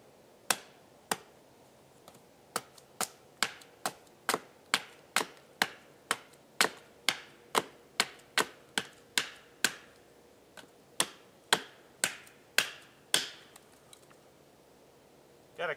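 A knife carving a wooden spoon, shaping the bowl: a run of sharp, evenly spaced cutting clicks about twice a second, close and crisp, with a short pause near the end.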